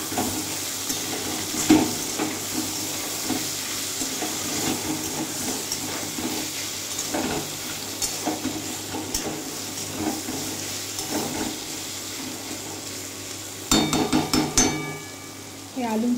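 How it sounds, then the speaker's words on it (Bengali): Potatoes and bitter gourd fry in a pan with a continuous low sizzle. Scattered scrapes and clinks come from stirring throughout, and a brief burst of clattering rises near the end. "দেখো আলুটা এবার মিশিয়ে দিয়েছি।"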